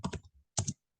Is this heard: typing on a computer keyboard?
yes